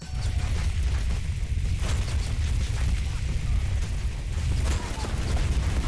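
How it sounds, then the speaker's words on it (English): Explosions in a chaotic video game run, heard as a dense, continuous rumbling boom with mechanical clatter, loud and sustained throughout without a break. "Okay, let's do the explosions"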